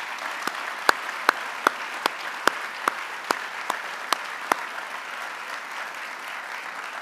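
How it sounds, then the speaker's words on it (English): Sparse, isolated claps at a university stakeholder address, a dozen or so sharp individual hand claps spaced across the first few seconds, then fading into faint room noise; no full crowd ovation. "So let's give a round of applause for those students."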